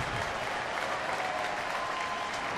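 Sunday afternoon baseball crowd of over 31,000 at a Cubs–Pirates game in Pittsburgh, cheering and applauding steadily as fans rise to their feet, a broad continuous roar with no talk.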